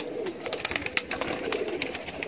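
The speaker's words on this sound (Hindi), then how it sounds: "ये देखें टैडी कबूतर है ये भी।" Teddy pigeons cooing, with soft repeated bird calls over a steady background hum and no voices.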